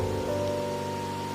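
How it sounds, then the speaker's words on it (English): Rain falling in the video game Wuthering Waves, a soft, even wash of rainfall under a steady tonal hum of game ambience, continuous and moderately loud for a brief moment with no voices. "But today's rain feels different."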